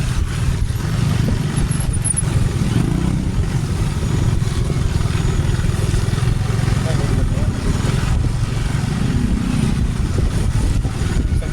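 Steady low engine drone of a motorcycle ridden slowly on the road from Parañaque to Zapote, constant and fairly loud throughout, with wind rumble and a voice talking over it.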